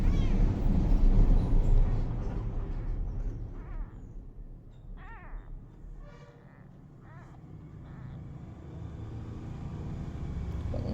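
A young kitten gives several thin, high meows, spaced apart, as it tries to walk, over a low rumbling background that is loud at first and then eases.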